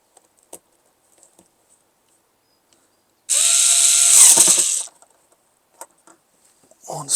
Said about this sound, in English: And for that, I need the screwdriver.